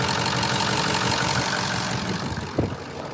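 A Ford 6.0 PowerStroke diesel engine idles with a steady, dense rumble and a low grinding edge from the muffler, close by and continuous, with a slight bump near the end.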